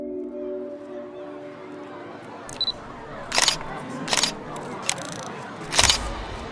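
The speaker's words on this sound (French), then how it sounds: "Il a pris une rafale de photos, mais il n'est pas certain de ce qu'il a shooté." Single-lens reflex camera shutter firing in several short bursts of sharp clicks, spaced a second or so apart over a faint background murmur.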